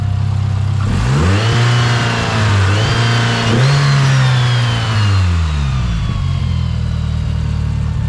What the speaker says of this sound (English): You rev it up a little bit.